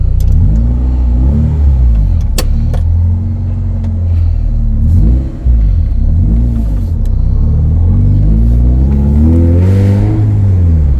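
A modified used Honda Civic Genio pulls away, its engine rumbling loud and close. The revs climb through several gears in rising sweeps, with a brief dip near the middle.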